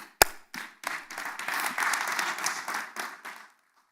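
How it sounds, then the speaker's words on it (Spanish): A church congregation breaks into applause, starting with a sharp single clap, building into dense clapping from many people and then stopping abruptly. "Un aplauso a José Girón."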